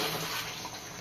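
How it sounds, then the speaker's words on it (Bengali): A little water poured into a pan of Bengali-style chicken kosha, a steady broadband splashing pour that runs the full second at close range with no voices. "একটু সামান্য জল দেবো,"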